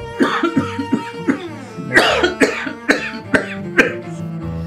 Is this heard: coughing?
yes